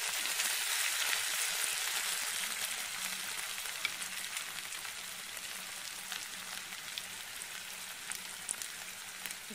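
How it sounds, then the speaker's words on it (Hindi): A steady, close sizzle of spices with coriander powder and garam masala frying in hot oil for arhar dal tempering, continuous and even throughout with no talking. "देखिए काफ़ी अच्छी तरीके से हमारा तड़का पक रहा है।"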